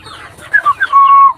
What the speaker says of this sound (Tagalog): ito yung mga cockerels natin dito sa loob ng ating indoor mini range